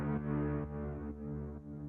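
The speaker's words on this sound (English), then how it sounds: "I used a big foghorn," A big foghorn sample pitched into key for the second drop of a bassline track, sounding as a sustained, loud low horn tone with strong harmonics that holds steadily for about two seconds, alone with no talk.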